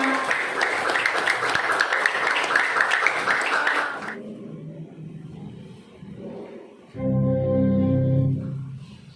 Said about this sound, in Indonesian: tepuk tangan pada kita semua